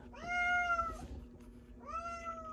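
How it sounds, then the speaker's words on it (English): A house cat gives two clear meows close by. The first is long and drawn out and the second is shorter, with a quiet background and no speech. "Are you done, cat?"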